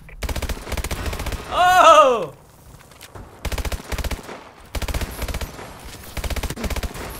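Rapid bursts of automatic fire from an AMR 9 submachine gun fired from the hip in a first-person shooter, several loud, fast strings of shots with short gaps, and a player's exclamation briefly rising over the noise.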